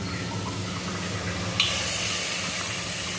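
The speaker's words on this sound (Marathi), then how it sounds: "मटण स्वच्छ करून घेतलेलं आहे. ते आता कुकरमध्ये टाकून घेते." Cleaned mutton drops into a pressure cooker, giving a steady wet sizzle with a sharper hiss at the moment it lands, close and fairly loud.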